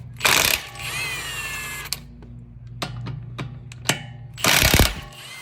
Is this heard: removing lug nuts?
yes